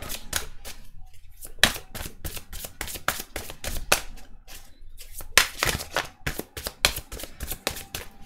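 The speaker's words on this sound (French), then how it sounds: "On va juste tirer 3 cartes avec l'oracle Gaïa pour voir." Gaïa oracle cards being shuffled and drawn for a reading: a rapid run of crisp riffling flutters and snaps, close and fairly loud, with brief pauses between bursts and no voices.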